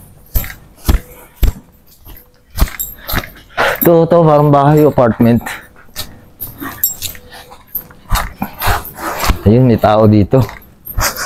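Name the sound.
dog barking and whimpering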